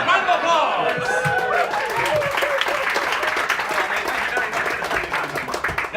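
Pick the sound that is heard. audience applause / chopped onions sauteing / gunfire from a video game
audience applause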